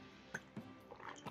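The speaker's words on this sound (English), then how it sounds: "getting a sip of water" A few soft wet sips and small swallows of water, close and quiet, spaced irregularly over about a second with no talking.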